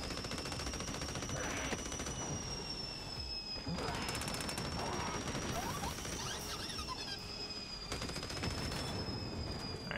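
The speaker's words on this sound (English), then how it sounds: "Deploying fire bullets. Gotta love those fire bullets." In the video game Battleborn, fire bullets rip out as rapid automatic bursts in several long volleys, each crackling with a bright metallic whine, amid steady combat noise at a fairly low level.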